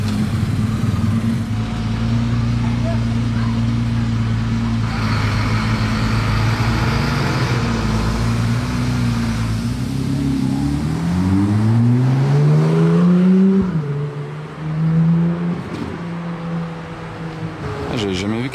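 Supercar fitted with a Novitec exhaust pulling in and accelerating on a Monaco street, a droning engine note that climbs in pitch through rising revs before a shift and another surge, with talk underneath.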